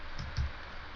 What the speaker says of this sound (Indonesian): Langsung kita mencoba mengetik ya.